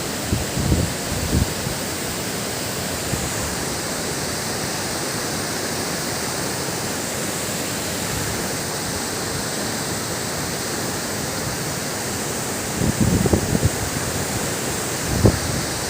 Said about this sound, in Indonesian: Kita sudah sampai di air terjun Siliman ini.